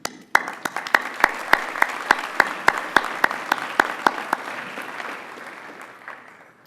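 An audience at the 2015 CFDC annual meeting in Polk County applauds with a burst of sharp, close claps that keep an even pace, then thin out and fade away.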